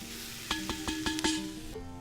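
Vegetables and vegan sausages sizzle steadily in a frying pan, with a run of five or six sharp scraping knocks as they are stirred, then the frying carries on alone.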